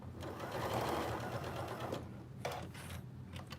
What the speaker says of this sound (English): So just back stitch, and I'm just sewing 1/4 of an inch around this little bib.